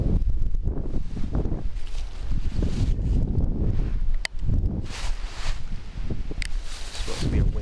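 Gusty wind buffets the microphone on a blufftop campground at Frontenac State Park near Red Wing, Minnesota, a continuous low rumbling roar that swells and dips with passing gusts.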